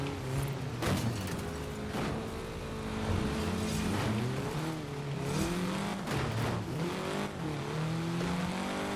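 A Bugatti Divo in Forza Horizon 4 drones steadily through a race, its engine tone sliding and wavering as the car loses speed, with faint tire and pass-by noise and no talk over it.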